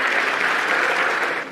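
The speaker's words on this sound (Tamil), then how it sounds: "நீங்கள் ஒரு கரகோஷம் கொடுத்து வரவேற்றுங்க" An audience at a Tamil debate event breaks into applause, a dense, even burst of many hands clapping that fills the space loudly, then tapers off after a second and a half.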